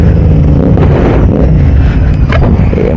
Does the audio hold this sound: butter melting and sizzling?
no